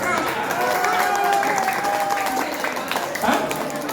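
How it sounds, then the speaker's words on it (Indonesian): An audience applauds at a small-business training session held in a café in Bandung: continuous clapping with crowd noise, and voices speaking over it. "Saya mau tepuk tangannya."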